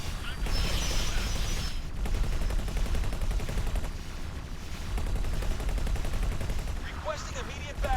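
Missiles and weapons fire in X4 Foundations, a dense roaring barrage of rapid launches and blasts that runs almost the whole time, with a short lull and faint chirping effects near the end.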